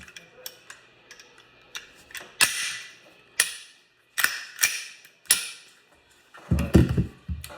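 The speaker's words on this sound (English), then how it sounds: "Make sure it locks." A Glock 48 pistol handled during cleaning, with a series of sharp metallic clacks and clicks at irregular intervals, including the slide locking back on an empty magazine. A heavier mechanical rattle comes near the end, close and loud.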